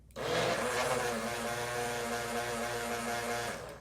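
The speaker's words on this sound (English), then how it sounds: "I can now directly turn on my blender" A kitchen blender, switched on through a Powerlink 4 switch, runs at a loud, steady, close whir with a droning motor tone that starts abruptly and holds for about four seconds.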